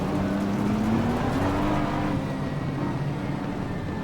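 A 2022 BMW M4 GT3 race car engine drones loud and steady while racing at Suzuka in Assetto Corsa Competizione, its pitch climbing gradually as it revs, with no voices.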